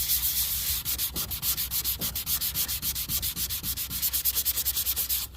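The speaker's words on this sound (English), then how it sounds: "That does exactly what you would expect sandpaper to do." Rapid back-and-forth strokes of 400 grit sandpaper rubbing over vinyl wrap film, a steady rhythmic scratching of about two strokes per second, close and fairly loud with no talk.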